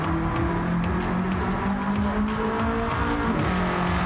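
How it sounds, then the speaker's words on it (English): A car engine from Gran Turismo 7 roars steadily and loudly throughout, with tire squeal and revving under it and no talk over the sound. "Listen to that engine noise. That sounds glorious."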